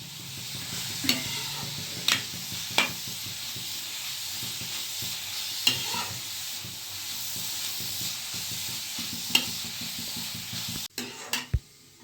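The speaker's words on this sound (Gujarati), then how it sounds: "આ જો ગાજર શેકાઈ ગયા છે, આ એકદમ ઘીમાં શેકાઈ ગયા છે" Carrots roasting in ghee in a pan for gajar halwa give a steady low sizzle with repeated scraping and stirring strokes, fairly close, and a few clanks of the spoon near the end.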